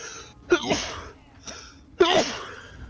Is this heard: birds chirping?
no